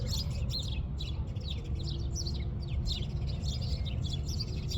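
Several birds overhead chirp and tweet in quick, agitated bursts, repeating throughout over a steady low outdoor rumble, fairly close and continuous, sounding like a squabble.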